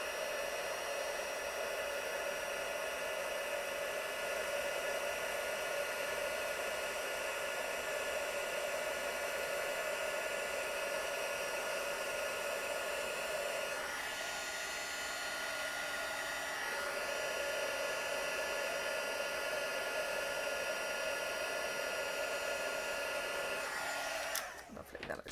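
A heat tool warms an embossed card element with a continuous close, steady blowing whir that dips briefly midway, then resumes before cutting off with a click.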